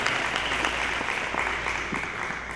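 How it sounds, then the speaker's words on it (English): A meeting audience claps together for a chair in a hall, the applause steady and moderately loud, holding the whole way through with scattered sharper claps and no talk over it. "Guys, let's give her a hand clap, please."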